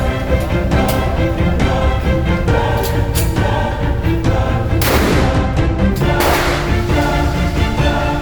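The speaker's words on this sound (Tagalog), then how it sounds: "Magpapuputok din sila, sabay kami mga kaibigan. Nasa loob na ako mismo ng actual firing mga kaibigan." Gunfire during a firing session at a range in Cubao, Quezon City, with repeated sharp shots and louder blasts in irregular succession, close and loud.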